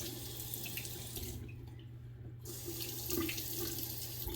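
A kitchen tap runs in a steady rush while lather is rinsed from a Lambda Athena safety razor blade, the flow briefly softening midway before continuing at a constant level.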